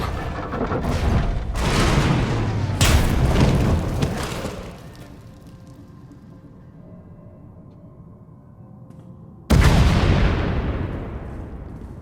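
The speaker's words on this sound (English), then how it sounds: "We heard explosions. The tunnel collapsed." Explosions and a tunnel collapse in the video game Star Wars: The Old Republic (Knights of the Eternal Throne): several heavy booms in quick succession, then a low lingering rumble, then one more sudden loud blast that slowly decays.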